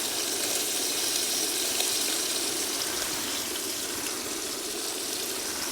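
Heavy rain pours steadily onto a camping tent and tarp, a dense, even hiss that stays loud and unbroken throughout with no voices.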